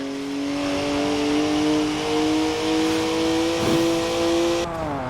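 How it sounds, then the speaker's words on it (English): A twin-turbo 3-litre straight-six with 335 horsepower revs steadily in a Forza Horizon 4 race car, a strong rising engine drone with clear harmonics held for about five seconds before easing off near the end. "3-litre straight six, 335 horsepower, 2 turbos, and as much sideways action as you like"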